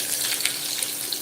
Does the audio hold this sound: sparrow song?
no